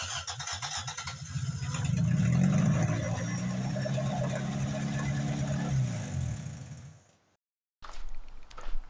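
A Toyota MR2 AW11 engine fires up after repair work and runs at a steady, rough idle. A low mechanical drone continues for several seconds, then cuts out abruptly, and clattering noise follows.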